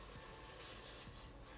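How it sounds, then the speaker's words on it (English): Water is poured onto cooked onions in a pressure cooker, a brief, close, faint splashing and bubbling stream with no voices. "It's at this point we want to add the water."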